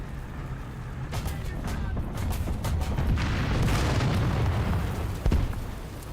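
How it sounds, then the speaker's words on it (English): A tank's 105 mm cannon fires in the War Thunder video game, with deep booming blasts and a heavy low rumble, plus a sharper crack near the end, all fairly loud and without voices. "I really like this 105 cannon compared to standard 88."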